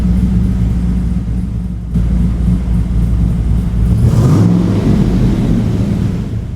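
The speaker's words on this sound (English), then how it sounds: "Oh, those side pipes sound so good." A 1965 Chevrolet Corvette resto-mod convertible with an LS2 engine and side pipes rumbles in a deep, steady idle close by, then swells briefly as it revs.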